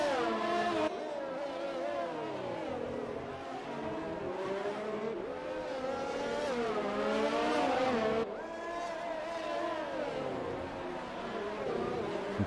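Race car engines in the F1 2020 video game at the Singapore Grand Prix wail and sweep up and down in pitch as a car spins out on cold tyres, loud and continuous.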